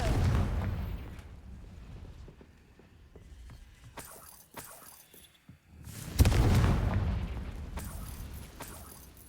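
Blasting-spell explosions in a Harry Potter video game, a deep boom at the start and another heavy rumbling blast later, with scattered crackles between them and no speech.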